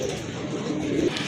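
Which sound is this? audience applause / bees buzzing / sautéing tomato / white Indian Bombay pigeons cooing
white Indian Bombay pigeons cooing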